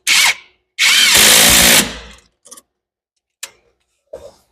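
A power tool tightens a bolt on a Mustang with two loud bursts, a short zip followed by a longer whirring run, then a few faint clicks and taps of handling in a quiet garage.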